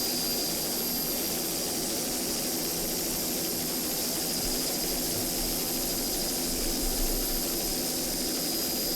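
A 35-foot cigarette powerboat with twin CNG Cobra engines roars loud and steady throughout, a constant dense engine drone with a high steady whine above it.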